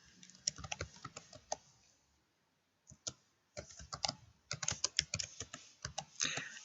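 Someone types a new file name on a computer keyboard, a quick run of close, crisp key clicks, a brief pause, then more bursts of tapping, with no talking.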